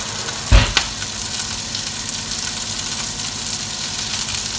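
Lemon sole and half-cooked potatoes sizzle and fry in a pan, a steady close crackling hiss with a brief louder clatter near the start and no talking.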